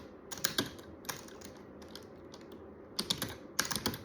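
Typing on a computer keyboard on a Debian-based Linux desktop, short bursts of clicky keystrokes separated by pauses, close and fairly quiet.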